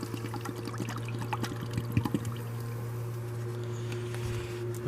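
Water pours into a plastic bottle for a homemade vinegar-and-salt weed killer, a soft continuous trickle and gurgle running for several seconds over a steady low hum. No voices.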